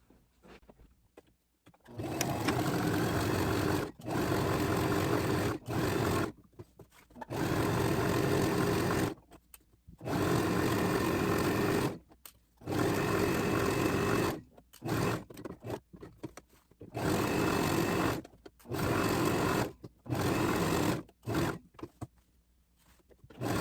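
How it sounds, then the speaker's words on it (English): A sewing machine runs a straight stitch around the edge of a fabric bag, in repeated loud whirring bursts of a few seconds each, separated by short pauses. "You're going to sew a straight stitch all around the edge with a 1/4 inch seam allowance"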